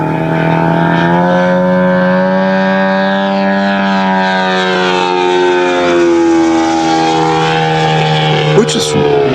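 Giant scale F8F Bearcat RC plane with a multi-blade propeller in flight, its engine holding a loud, steady droning whine with strong harmonic tone that shifts slightly in pitch as it passes, continuous throughout.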